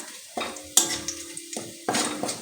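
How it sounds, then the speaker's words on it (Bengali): Garlic and bay leaves frying in oil for dal, a close sizzle broken by several sharp metal spatula scrapes and clanks against the pan, with no talking. "তো রসুনটা আরও একটু কড়া করে ভেজে নিতে হবে যাতে রসুনের গন্ধটা খুব ভালো করে বেরোয়"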